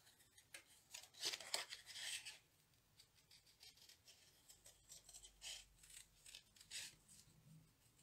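Scissors snip and rasp quietly through paper, cutting out a stamped deer shape for a Christmas card in short irregular bursts.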